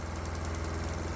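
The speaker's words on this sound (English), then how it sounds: "this engine still runs fine" A diesel engine burning a 60% vegetable oil blend runs steadily with a low, even throb and constant mechanical hum, close and unbroken, with no voices.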